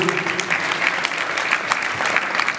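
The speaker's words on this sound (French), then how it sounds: "Applaudissez." An audience at a martial arts gala claps in dense, sustained applause, many hands together at an even level throughout, with no speech over it.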